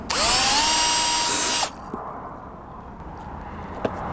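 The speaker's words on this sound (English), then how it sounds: "Pre-drilling the holes." A power drill pre-drilling holes while installing a Starlink Flat High Performance dish on an RV spins up with a high whine for about a second and a half, then stops; a few faint clicks follow in the quiet.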